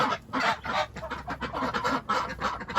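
Geese honk repeatedly in a noisy, overlapping chorus alongside ducks and chickens, close by and fairly loud, with a steady low rumble underneath.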